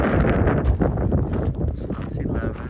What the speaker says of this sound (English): I don't know how I'm gonna put my tent up with this wind.